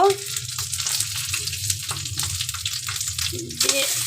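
Hilsa fish frying in very hot mustard oil in a pan gives a loud, continuous close-up sizzle and crackle, with faint voice sounds underneath.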